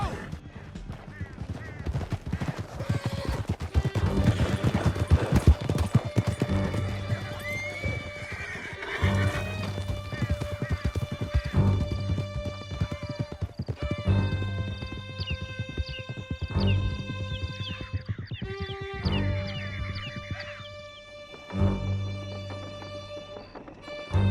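Horses gallop and whinny through Red Dead Redemption 2 gameplay: loud, steady clip-clop of hooves, bursts of neighing, and occasional gunfire, with a music score running underneath and voices calling out at moments.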